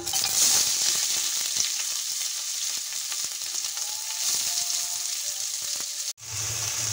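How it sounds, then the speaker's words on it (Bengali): Chopped onion hits hot oil in a pan and sizzles loudly and steadily, with faint stirring scrapes, before the frying cuts off briefly near the end. "এখন আমি গরম তেলের মধ্যে দিয়ে দিচ্ছি পেঁয়াজ কুচি"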